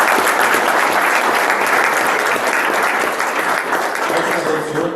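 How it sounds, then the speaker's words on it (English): An audience claps steadily through a tech fireside-chat event in New York, dense continuous applause filling the room at an even level for several seconds. "can we get a round of applause?"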